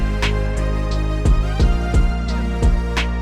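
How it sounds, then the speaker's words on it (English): A bright, brassy synth lead plays a punchy repeated riff, doubled an octave below, with evenly spaced notes and a thick, buzzy tone. "the core of these leads comes from this brassy lead that I found inside"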